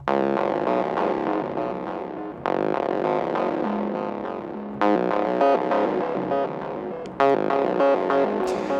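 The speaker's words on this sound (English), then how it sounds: "you'll hear it's randomizing the pitch, but it's snapped to a musical scale" A distorted Synthmaster 2 synth plays a series of sustained notes, pitch randomized but snapped to a musical scale, each jumping at irregular moments, bright and loud with no talking.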